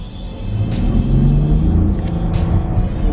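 A VW Atlas R-Line three-row SUV accelerates hard, its engine rumbling loudly and swelling up in revs from inside the cabin, with brief clicks and ticks sounding over the steady drive.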